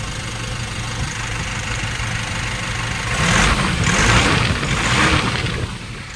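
Nissan NV350 van engine idling after fuel injector replacement, a steady low rumble with a brief swell in revs midway before settling back, heard close with no talking.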